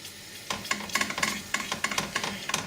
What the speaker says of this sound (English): I'm gently stirring it.